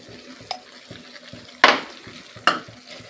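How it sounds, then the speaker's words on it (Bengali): A spoon stirs spring onion and pumpkin curry with dried lentil dumplings in a pan after salt goes in: soft scraping with three sharp, close clanks of utensil against metal over a low sizzle, no talk. "লবণটা দিয়ে আবারও ভালো করে নেড়ে দেব।"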